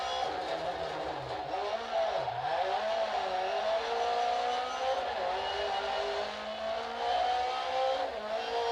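Rally car engine in a racing video game at Trois Rivières, droning steadily with shifting revs as the car drives, loud and continuous with no voices over it.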